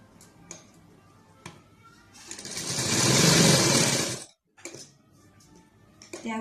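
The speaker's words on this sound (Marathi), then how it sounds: "त्यावर आपण परत एक व्यवस्थित टीप देऊन घेऊ" A sewing machine runs steadily for about two seconds while stitching the lining of a princess-style blouse. Softer taps and handling come before and after the run.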